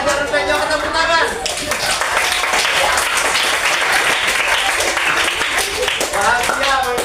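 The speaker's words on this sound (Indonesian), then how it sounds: "tepuk tangan" Students clap their hands in a steady, loud burst of classroom applause lasting several seconds, with a teacher's voice speaking at the start and end.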